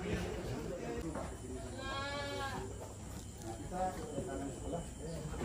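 Crossbreed Boer goats on a goat farm give a clear wavering bleat in the middle, with fainter animal calls around it, heard at a distance over quiet outdoor background while people talk nearby.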